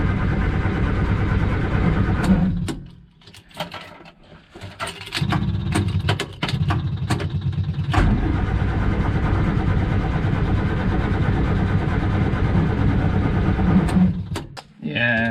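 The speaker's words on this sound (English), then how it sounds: "Key in the ignition, and you can hear the pump." Morris Minor engine being cranked with the key while its fuel pump runs, a steady mechanical drone interrupted by clicks and clunks, with voices talking in the middle.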